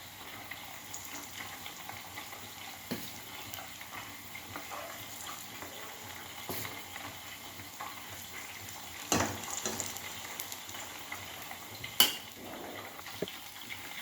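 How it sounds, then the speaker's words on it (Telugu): Urad dal flatbread cooks in ghee on a pan, giving a faint, steady sizzling hiss with a few soft clicks and one sharper clink near the end, with no talking. "అదే పెనంలో మినపరొట్టె వేస్తున్నాను"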